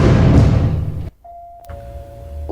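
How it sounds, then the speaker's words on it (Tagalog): Doorbell at a large house gate gives a short electronic ding tone, a clear sustained chime following a loud muffled noise that cuts off abruptly. "Mag-doorbell na ko."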